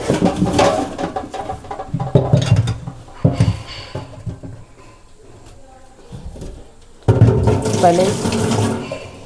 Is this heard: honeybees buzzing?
no